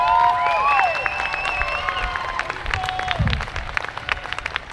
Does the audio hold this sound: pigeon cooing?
no